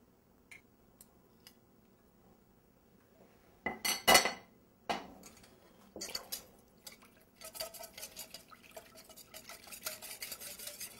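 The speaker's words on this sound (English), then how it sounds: "I'm going to whisk this a little bit, get it all combined together" A whisk stirs cumin and other spices into a mixture in a bowl, with tomato paste added, while cooking chicken tagine. Quiet at first, then a sharp clatter and a run of light rhythmic scraping and clinking against the bowl.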